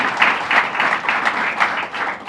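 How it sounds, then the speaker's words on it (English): An audience applauds the mayor at a state governor's announcement on affordable housing financing: steady, full clapping from a sizable crowd that swells and ebbs in waves for a couple of seconds, with no talking over it. "So let's give a round of applause to our mayor here."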